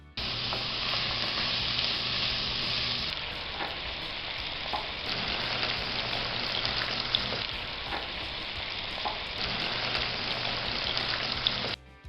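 Onion with ginger garlic paste fries in a pan with a loud, continuous bright sizzle, joined by occasional faint stirring scrapes; steady throughout with no voices.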